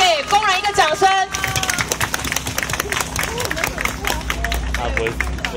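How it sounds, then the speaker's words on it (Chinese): A crowd at an evening workers' rally in Taiwan claps and cheers for the workers, with a sustained patter of many hands and crowd noise following a short stretch of speech. "大家可以给工人一个掌声"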